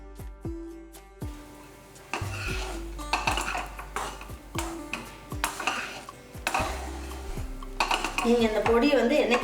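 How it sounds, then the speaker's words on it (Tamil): Coriander rice being stirred in a pan, with repeated metal clinks and scrapes of a utensil against the pan in an irregular rhythm, close and fairly clear over a low steady background hum. "சாதத்தை போட்டு கிளறிடலாம்"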